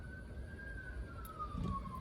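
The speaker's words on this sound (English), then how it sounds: "Y'all hear them sirens, right?" A police siren wails outside at a distance, its tone sliding slowly downward. The siren is steady and fairly faint over low background rumble, and no one speaks.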